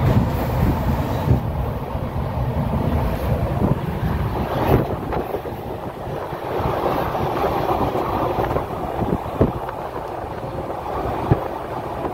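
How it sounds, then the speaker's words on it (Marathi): A moving sleeper-class passenger train rumbles steadily throughout, with a continuous low roar and occasional clanks and rattles, no voices. "ट्रेन आता सुटली"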